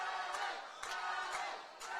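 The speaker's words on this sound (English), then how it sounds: "You can hear the crowd in the background getting behind these two fighters." Spectators at a corporate boxing event roar and yell in support of the fighters, a continuous wash of crowd noise with occasional sharper shouts rising out of it.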